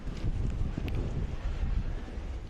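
Wind gusts buffet the microphone outdoors at an ultimate frisbee match, a continuous low rumbling roar with fluctuating intensity and faint crowd or field sounds underneath.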